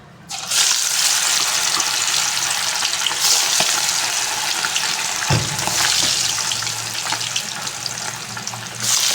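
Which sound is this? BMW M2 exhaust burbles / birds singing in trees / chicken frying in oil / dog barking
chicken frying in oil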